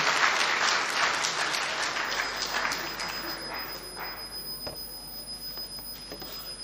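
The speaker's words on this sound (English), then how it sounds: "Please clap for your chairman." An audience at the opening ceremony of the Nigerian Institution of Agricultural Engineers in Ilorin applauds its national chairman with dense, sustained clapping that slowly eases off over a faint steady high tone.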